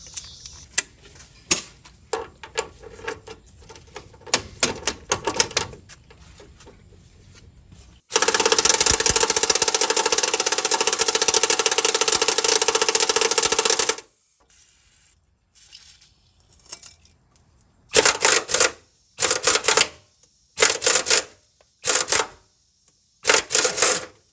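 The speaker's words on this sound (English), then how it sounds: "let me get these motor mount bolts out, guys, and I'm gonna zip them off with some air" Air impact wrench zipping 13/16 nuts off the motor mounts of a Ford F-350 with a 5.4 engine: a long loud rattling burst of hammering, then several short sharp bursts separated by pauses, with clanks and handling noises in between.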